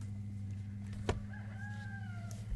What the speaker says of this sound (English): And the rooster's giving me an amen.